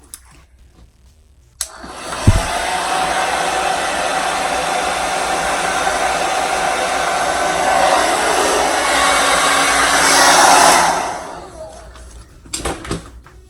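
A hair dryer blows steadily while a brush works through hair, the loud continuous whoosh running for about nine seconds before cutting off, with a click at the start and light handling noises after.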